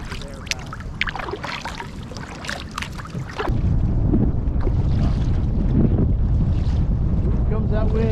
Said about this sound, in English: Here comes that wind, man.